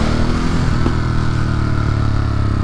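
A motorcycle being ridden on a morning commute, its engine humming loud and steady at an even pace, alone without speech.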